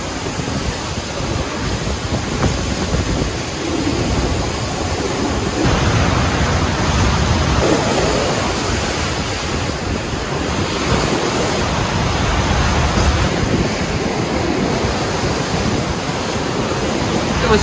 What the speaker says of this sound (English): You can probably hear the waves.